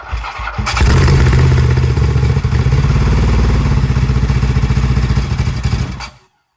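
A liquid-cooled, four-valve Ducati 851 sport bike starts up and runs, a loud close engine with a rapid, lumpy firing rhythm that stays steady for several seconds before cutting off.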